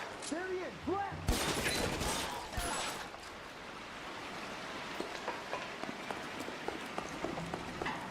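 L.A. Noire gunfire opens with a loud blast after some voices, followed by a steady run of sharp, scattered shots and pops over a hissing, rain-like wash of background noise.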